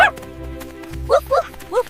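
A dog gives three short, high yipping barks in quick succession after a low hum and a soft thud. The barks are close, clear and fairly loud.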